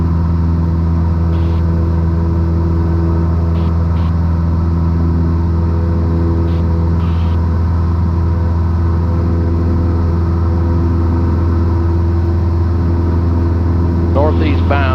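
A Cessna 182 piston engine runs at low RPM in flight, heard from inside the cabin as a loud, steady droning rumble with layered humming tones that holds unchanged throughout.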